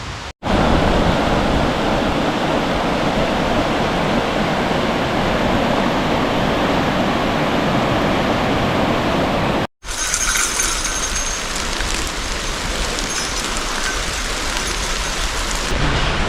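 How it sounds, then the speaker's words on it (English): Loud, steady rain pours down as a dense hiss, breaking off for an instant before continuing with a brighter, thinner patter. "Rain and the sun's out."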